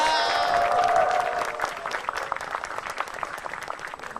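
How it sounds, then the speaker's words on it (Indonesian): Stand-up comedy audience applauding and cheering after a joke, a dense burst of clapping that swells loudly then thins and tapers off over a few seconds. "Tepuk tangan untuk rakyat Indonesia"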